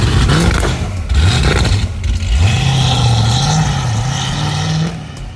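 A Cadillac CT5-V Blackwing on flex fuel runs hard on a dyno, its engine droning loud and close with rising and falling revs that sweep smoothly up before settling near the end.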